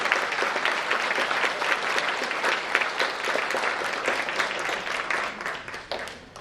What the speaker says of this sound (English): Let's give them a hand of applause for that.